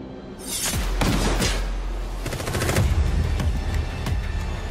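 Gunfire from the Ghost Recon Breakpoint video game trailer, loud repeated bursts of shots and heavy impacts packed together in a dense, continuous barrage.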